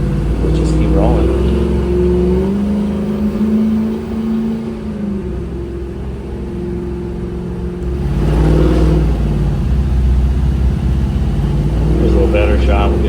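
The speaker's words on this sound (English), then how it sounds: "This motor with its aluminum heads, roller cam, great little setup." V8 car engine with fuel injection, aluminum heads and a roller cam, droning steadily while cruising, rising into a louder rev near the end, with someone talking over it.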